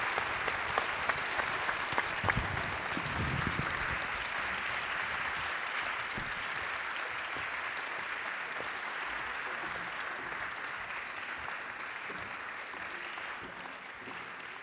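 Audience applause fills an award ceremony for merit prizes, steady sustained clapping from a sizable crowd throughout, with a few louder individual claps near the start and a faint voice briefly underneath.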